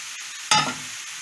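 Honey mushrooms being stirred into a pan to stew for a Transcarpathian mushroom pâté with bell pepper, giving one brief close scrape and sizzle before a faint steady simmer.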